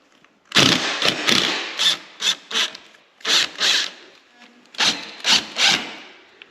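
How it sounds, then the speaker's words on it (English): Screws are backed out of an RV awning with a powered driver in about nine short whirring bursts of varying length, close and fairly loud, with brief pauses between them. "So now I'm just going to remove these 2 screws."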